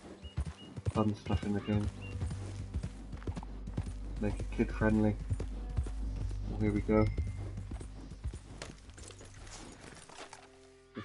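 Horse hooves clip-clop in the Western video game Red Dead Online, irregular thudding steps on the ground mixed with game sounds while someone talks over them throughout.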